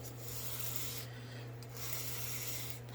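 Steady rubbing strokes of a knife edge drawn across an abrasive for a convex grind, a continuous close scraping texture that pauses briefly between passes, with a constant low electrical hum beneath.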